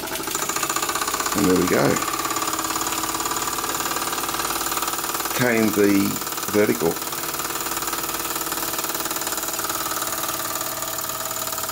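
A model steam engine, built with a Baker fan setup, runs with a steady mechanical drone throughout while someone talks briefly over it.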